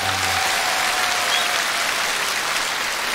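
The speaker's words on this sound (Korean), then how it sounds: "수고하신 분에게 박수 주시기 바랍니다." A studio audience at a televised Korean amateur singing contest final gives a full, steady round of clapping. It is loud and continuous throughout, with a brief tone at the start.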